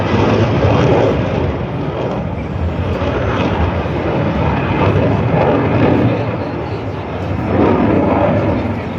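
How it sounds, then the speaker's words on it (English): A jet fighter at an airshow lights its afterburners and accelerates, producing a loud, continuous broadband roar that swells and rumbles steadily throughout, with no voices. "But now the burners kicking in again, accelerating again."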